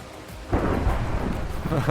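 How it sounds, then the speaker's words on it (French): A thunderstorm in Minecraft: steady hiss of heavy rain, then a loud rolling thunder rumble that swells suddenly partway through and keeps booming beneath the downpour, with no voices. "Par contre la tempête ça rigole pas ici."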